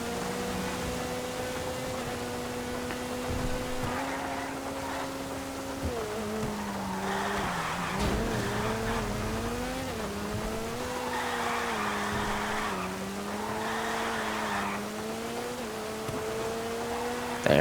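Sentinel Classic Widebody car drifting in a racing video game on a rainy track, its engine droning at a steady pitch that rises and falls with throttle while tires squeal and hiss through long slides.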